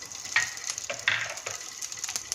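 Chopped onion hits two teaspoons of hot oil in a pan and sizzles in a series of crackling bursts with short spatters, close and moderately loud, with no one talking.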